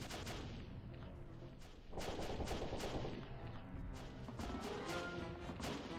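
Rifle and machine-gun fire in the World War I video game Battle of Empires: 1914-1918, with sharp repeated cracks and bursts alongside heavier booms. The shots come irregularly over several seconds, fairly quiet in the overall mix.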